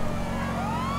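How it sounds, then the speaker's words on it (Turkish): GTA 5 ambulance siren wailing, a rising electronic tone over engine and traffic noise, loud and close, with no speech. "Yak sirenleri baba."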